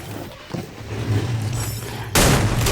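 Gunfire in the Free Fire battle royale game, likely from an M590 shotgun: a burst of loud close shots over a steady game backdrop, with a sharp blast near the end.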